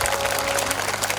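Audience at a Hindi religious storytelling gathering gives a short burst of dense, loud clapping for donors, a steady crowd applause filling the space.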